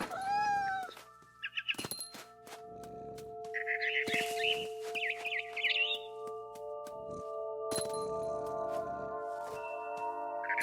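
Cat meows inside the video game What Remains of Edith Finch, several short mewing calls mixed with bird chirps and tonal game music, fairly close and clear.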